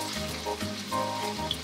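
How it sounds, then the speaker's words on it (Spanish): Chicken tenderloins fry in a hot pan of olive oil, a soft, fairly faint sizzle with a low background hum and a few light crackles. "Ponemos una sartén al fuego, le echamos un chorrito de aceite de oliva y cuando esté caliente pondremos uno a uno los solomillos"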